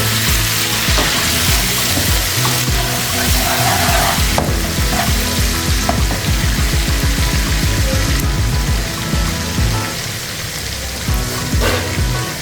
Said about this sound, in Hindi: थोड़ा सा हम इसको फ्राई करेंगे।